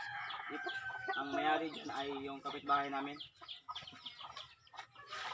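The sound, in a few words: chickens clucking, hens with chicks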